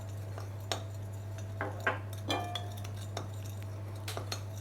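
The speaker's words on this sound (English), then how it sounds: "And mix the sugar and the cinnamon together." A teaspoon stirs sugar and cinnamon together in a bowl, giving scattered light clinks and scrapes of metal against the dish over a steady low hum, with no speech.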